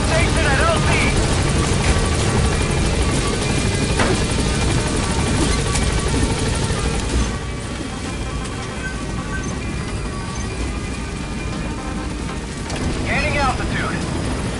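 Helicopter rotor and engine drone arriving at a landing zone in Metal Gear Solid V, a loud steady whir throughout that dips slightly midway, with faint scattered game sounds on top.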